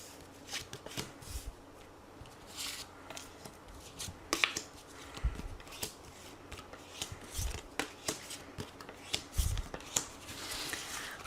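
Deck of oracle cards shuffled and drawn for a reading, with repeated soft riffling, slaps and flicks of cards in uneven bursts, close and quiet, with no voices.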